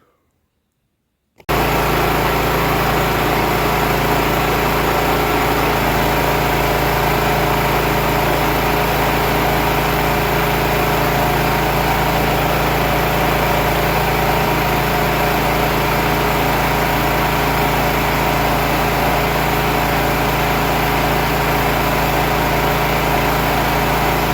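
A vehicle engine runs at steady raised revs while driving a hydraulic power steering pump, starting abruptly after a moment of silence and then holding a loud, continuous drone without letting up.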